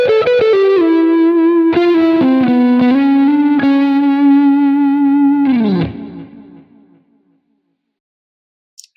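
A Strat-style electric guitar played through a fuzz effect on a Quad Cortex modeler: loud sustained distorted notes with a few quick changes, bending down before fading out to silence.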